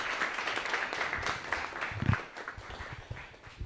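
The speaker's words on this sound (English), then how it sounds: "Can I get a round of applause for this guy here?" A small audience at a Nerd Nite talk in a bar venue gives a round of applause, fairly quiet, steady clapping with some louder individual claps and a few voices mixed in.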